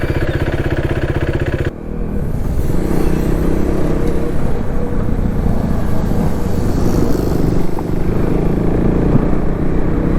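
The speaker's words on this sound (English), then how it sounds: "Now we shall take this motorcycle for a spin. Riding the Duke 390." A first-generation KTM Duke 390 single-cylinder motorcycle is ridden, its engine a loud, close, continuous drone that shifts pitch briefly before settling into a steady rumble with wind noise.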